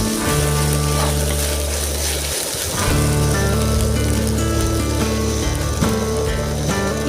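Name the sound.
ginger garlic paste sautéing with onions in pan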